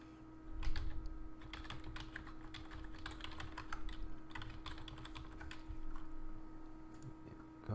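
Typing on a computer keyboard while entering a Blogger account, steady rapid key clicks running throughout over a low background hum, fairly close and moderate in level.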